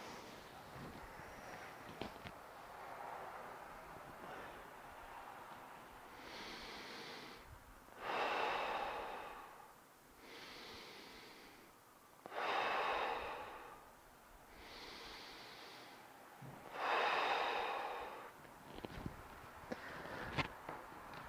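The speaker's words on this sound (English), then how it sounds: "practice a little bit of diaphragmatic breathing" Slow diaphragmatic breathing exercise, with several long, steady breaths in and out repeating at an even rhythm, close and fairly soft, with no talk over them.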